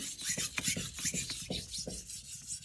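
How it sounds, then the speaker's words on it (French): A chef's knife blade is drawn in repeated strokes across a sharpening stone, a steady rhythmic rasping scrape close by with no voices. "Je commence par affûter cette partie-là de ma lame."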